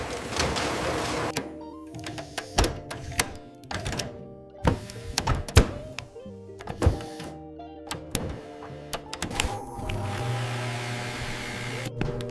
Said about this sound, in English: High-speed needles push the pits out of the fruit without crushing the flesh.